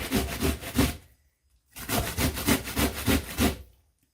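An onion is grated by hand, making two long, loud, close bursts of rhythmic scraping strokes separated by a short pause.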